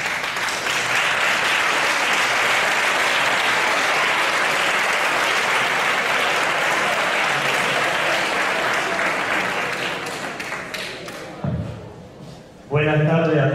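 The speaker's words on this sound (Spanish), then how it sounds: "Recibamos con un gran aplauso a don Miguel José Cano López" A hall audience at a Spanish town award event gives sustained loud applause to welcome the parish priest, fading near the end before a voice begins speaking.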